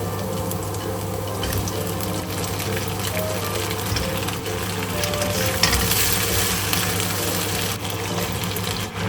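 Chicken feet with garlic frying in a pan for spicy adobo, a steady close sizzle with a constant background hum and occasional stirring, no talk.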